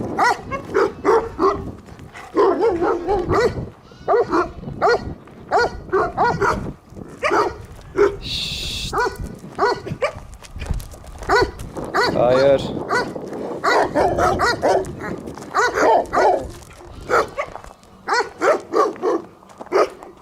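Several stray Kangal dogs bark and yelp around a person walking through their area, mostly mid-distance, with barks breaking out repeatedly under near-continuous talking over twenty seconds.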